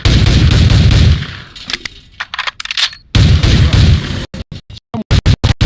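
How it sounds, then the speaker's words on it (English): M4 rifle gunfire in the Soldier of Fortune II training level, loud sustained automatic bursts followed by a quick series of separate single shots near the end. "Some of your weapons will have multiple firing modes, including the M4 you're holding."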